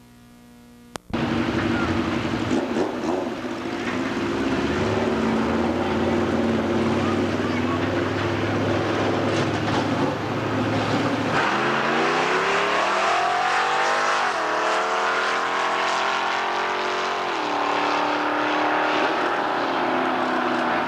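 Drag racer Wayne Bowman's car doing a tire burnout before a run against Lee Evenson at a drag strip: a loud, sustained engine roar with rising revs and screeching, continuous throughout with a sharp onset.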